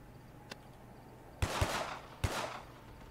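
Gunfire in the video game Uncharted 3: three sharp shots, the first two in quick succession and the third a moment later, each with a short echoing tail over a quiet backdrop with a faint click just before.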